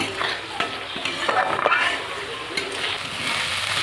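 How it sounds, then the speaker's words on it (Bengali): A ginger and garlic spice paste fries for a Bengali silver carp kalia, thick sizzling with busy scraping and clinking of a spatula stirring in the pan, close and continuous, with faint voice in the background. "মশলাটাকে আমি ভালো করে কষিয়ে নেব।"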